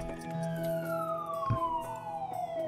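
Ambulance siren from the SimCity city-building game, a steady wailing tone that slowly falls in pitch over a bed of in-game city ambience, moderately loud throughout.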